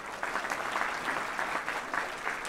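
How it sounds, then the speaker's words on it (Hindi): An audience at a company launch event for a makeup line breaks into strong, continuous applause, a thick wash of many hands clapping close by with no speech over it. "सबसे पहले ऊपर वाले के एक बार जोरदार तालियां हो जाए"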